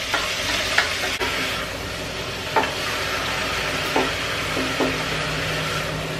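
Vegetables fry in a pan with a steady, close sizzle, broken by a few spatula scrapes and taps.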